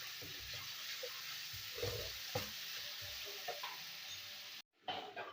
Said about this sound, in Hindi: 2 से 3 मिनट लहसुन अदरक को फ्राई करें।